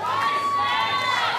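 An audience applauds and cheers for Stan Walker performing on Australian Idol, a dense, loud continuous roar of crowd noise for a brief moment.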